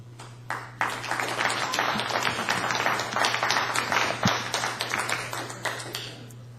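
Audience applauding at a community services district special board meeting: a burst of hand clapping that starts sparse, swells into dense sustained applause, then thins out, with a steady electrical hum underneath.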